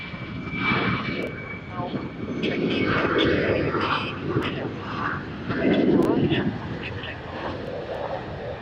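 A Jetstar jet airliner lands on runway 34 left at Sydney Airport, its engines a broad rumbling roar that swells and fades through the clip while radio voices talk over it.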